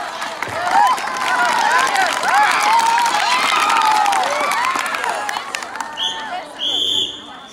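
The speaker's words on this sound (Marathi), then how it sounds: "टाळ्या घ्या भाऊ." A school audience claps and cheers during a snake-awareness session, a dense steady wash of applause with excited voices lasting several seconds before fading near the end.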